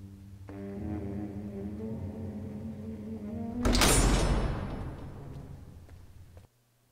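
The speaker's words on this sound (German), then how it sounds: "Tür auf bei 3" A heavy prison cell door in Alcatraz 1954 grinds open with a low mechanical rumble, then a loud metallic slam and clatter that rings down before cutting off, with no talking.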